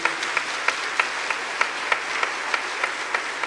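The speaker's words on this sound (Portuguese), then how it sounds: "Vamos dar uma salva para São Pedro, uma salva de palmas para ele, por favor." A small church congregation claps for Saint Peter during a Pentecost homily, producing moderate applause with distinct, irregular individual claps standing out from a steady wash.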